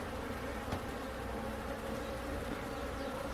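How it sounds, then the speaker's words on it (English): A swarm of native stingless bees in Costa Rica hums steadily at a nest wall, a dense continuous buzz close by with no pauses. "Alright, so we've come to a wall of bees."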